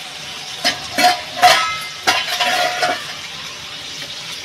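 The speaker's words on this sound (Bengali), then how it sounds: "দেখুন এখানে তেলটা গরম করে নিয়েছি, তেলটা বসিয়ে দিয়েছি।" Hot oil crackles and sizzles in a pan on the stove, with several brief bursts of spitting and stirring noise and no talk over it.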